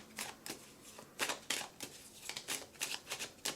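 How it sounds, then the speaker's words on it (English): A deck of Whispering Woods Oracle cards is shuffled in a series of quick papery riffles and snaps, close and fairly quiet, with no talking. "We're going to shuffle."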